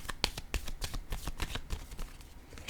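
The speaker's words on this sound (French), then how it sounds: "Je vais déposer une carte en cette zone." Tarot cards shuffled and laid down by hand, a quick run of crisp riffling snaps and slaps in an uneven rhythm, close and fairly quiet, with no voices.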